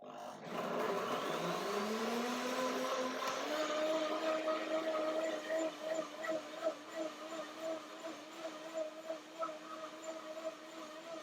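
A blender whips fruit for a mango lassi and fruit salad dressing. The motor revs up to a loud, steady whir, then settles into a pulsing, wavering churn as the mixture thickens.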